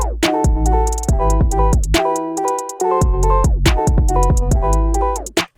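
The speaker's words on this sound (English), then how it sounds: "So now my snare sounds like this." A trap beat plays with crisp snare hits and deep 808 bass notes that are cut short on each snare. Rapid hi-hats run throughout in a steady, punchy rhythm with no voices.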